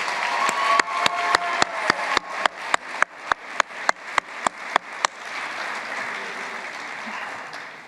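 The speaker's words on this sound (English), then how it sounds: "Please join me in another round of applause for our bachelor's graduates." Commencement audience applauding graduates, a steady wash of clapping with a string of sharp, evenly spaced loud claps or thumps over the first five seconds, then the applause continuing more evenly before fading slightly.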